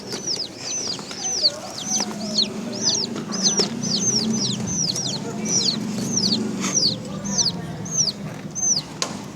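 Young chicks peep in quick, repeated high chirps close by, a steady run of bright calls over a low background murmur of voices and room noise.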